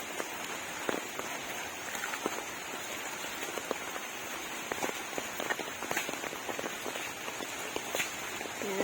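Heavy rain pattering on surfaces, with scattered droplet taps and a soft hiss throughout, fairly quiet and with no talking.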